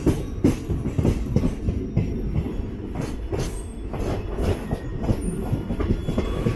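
Rhythmic wheel clatter and steady rumble of the 06602 Madgaon Express running from Mangalore to Madgaon, heard from inside a coach, loud and continuous throughout with repeated clicks over rail joints.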